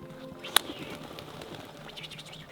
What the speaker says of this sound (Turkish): Bunlar da Oğuz abimizin kuşları.